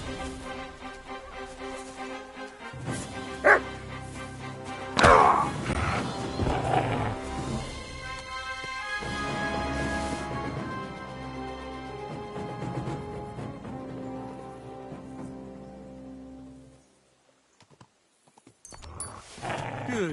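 A dog barks and growls amid a chaotic medieval battle in the video game Kingdom Come, loud and busy with clashing, crashing impacts and horse hooves, before briefly dropping off near the end.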